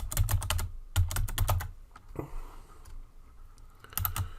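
Bursts of quick close key clicks come from typing on a computer keyboard, a rapid run, a pause with a soft thump, then another short burst at the end.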